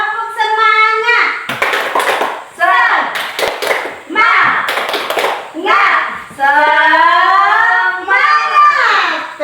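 Schoolchildren in a classroom do a rhythmic clapping cheer, sharp claps and thumps alternating with loud shouted and chanted children's voices, led by a teacher's call.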